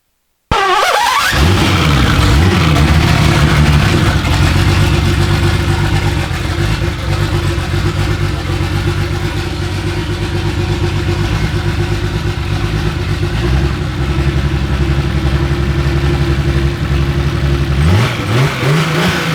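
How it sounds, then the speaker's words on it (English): A turbocharged BMW E30 engine starts and runs steadily at a loud close idle with a rough droning rumble and a turbo whine over it, the revs dipping slightly before settling. "Now there's turbo noise too"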